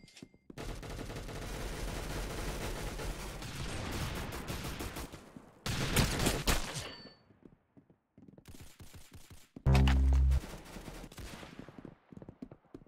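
Gunfire from the video game Clown Infection: loud bursts of rapid automatic fire and single shots, separated by short silent gaps, with no talking.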